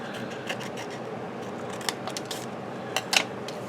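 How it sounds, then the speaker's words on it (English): Scissors trimming paper for an altered paper clip craft, with soft snips and rustling close up and a quick cluster of sharp cuts near the end. "I'm just going to trim this off here."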